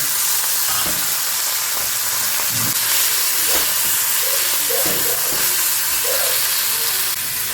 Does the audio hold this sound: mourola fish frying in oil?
yes